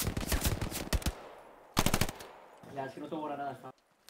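Bursts of rapid machine gun fire in the video game Hell Let Loose, two volleys, loud and close, followed by a short stretch of muffled voice-like sound.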